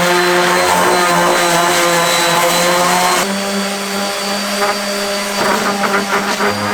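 A dual-action sander whirs loudly and continuously while smoothing a car fan mount for a 1JZ swap, a steady high-pitched motor drone that shifts slightly in tone partway through as pressure changes.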